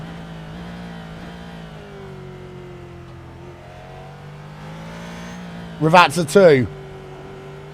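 A GT2 race car in iRacing at Imola holds a steady engine drone under a commentator's voice, then a louder rising rev burst as it accelerates toward the finish.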